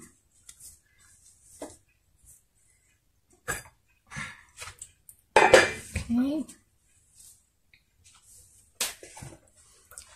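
Metal lid coming off a cooking pot and a utensil clinking against it as the food inside is stirred, sharp scattered clanks and scrapes separated by quiet gaps, with a brief cough or breath in the middle.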